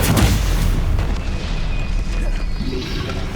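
The Stupefy spell is cast in Hogwarts Legacy and bursts as a loud, booming blast. It opens with a hard hit, then a sustained rumbling roar with a thin whistling tone through it.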